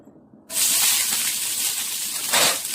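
Onion dropped into a hot pan while cooking egg curry sets off a sudden loud sizzle that holds steady and close, swelling briefly near the end.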